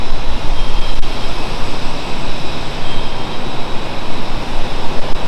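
A vintage bomber's radial engine number one runs at a museum, a loud, rough, continuous roar with pulsing throb that holds steady throughout, close and dominant with no talk.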